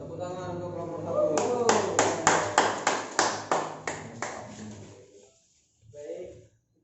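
A primary school classroom claps for a student group, a short burst of rhythmic clapping that swells, keeps a steady beat and fades, followed by a brief voice.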